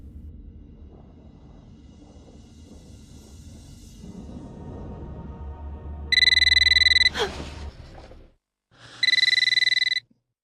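A telephone rings twice in the Eternal Darkness: Sanity's Requiem horror game on Nintendo GameCube, loud electronic trills over a low ominous rumble, with a short pause between the rings and a dark sweep sound.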